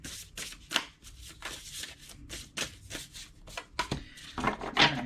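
Oracle cards being shuffled by hand for a tarot-style reading, a run of close, crisp riffling and slapping bursts in an uneven rhythm lasting several seconds, with no talking.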